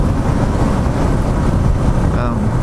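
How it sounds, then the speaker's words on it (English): Wind gusts buffeting a rider on a DR650SE motorcycle, heavy continuous rumbling wind noise across the microphone, loud and unbroken throughout. "I got a couple of wind gusts that got the old DR sideways"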